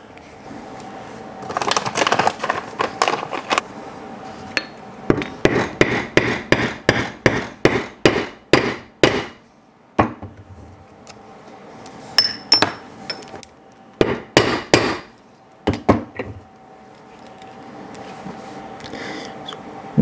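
Repeated hammer blows set a rivet through a folded leather dog leash around a metal ring, sharp close strikes in fast bursts separated by short pauses.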